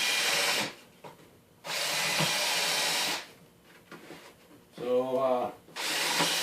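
A power drill with a countersink bit pre-drills plywood, whirring in three bursts, high and loud, separated by quiet gaps, with a lower grinding spin-down near the end.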